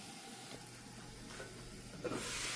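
Bitter melon cooking under a lid in a pan, a soft continuous sizzle and steamy hiss that swells slightly toward the end, close and quiet, with no talking.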